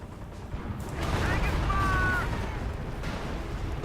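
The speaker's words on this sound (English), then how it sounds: "Somebody shooting here." Gunfire and shelling from the Company of Heroes strategy game rumble in a dense, booming wash that swells midway, with someone talking over the battle noise.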